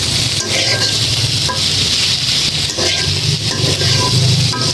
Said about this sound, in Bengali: এখন এগুলো দিয়ে ভেজে নিতে হবে।